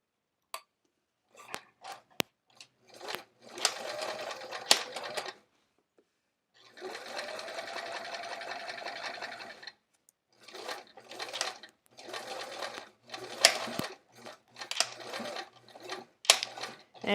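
A home sewing machine stitches the inside pockets of a fabric art folio in several bursts of rapid whirring, separated by pauses and small clicks, while someone talks between runs.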